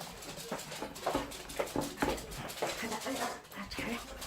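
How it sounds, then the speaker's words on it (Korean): A small dog whimpers and yips in short, repeated bursts over busy background noise and talking. "아, 아, 강아지 소리가 들리시는데요."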